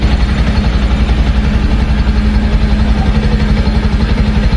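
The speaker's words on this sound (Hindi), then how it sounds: "अब आप इस बाइक के इंजन का साउंड सुनिए" A Bajaj Pulsar N160 motorcycle idles close by, its engine giving a steady, even exhaust note with a light mechanical clatter and no talk over it.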